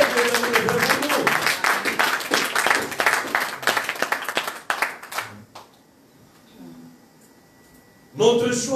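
A church congregation applauds with steady, dense clapping for about five seconds, then it fades out, leaving near silence before a voice speaks again at the end.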